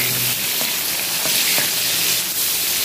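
Flat beans frying in hot oil in a wok over a low gas flame, giving a steady loud sizzle with a few faint stirring clicks.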